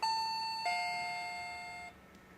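An electronic doorbell chime rings out, two clear tonal notes that sustain and slowly fade in a quiet room.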